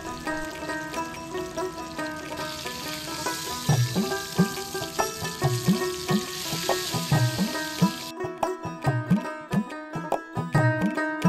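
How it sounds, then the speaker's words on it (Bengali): Pieces of rohu fish fry in hot oil in a pan, with a continuous sizzle, repeated crackles and occasional sharper pops, close and fairly loud, with no speech. "তেল গরম হলে একে একে মাছগুলো দিয়ে দেব"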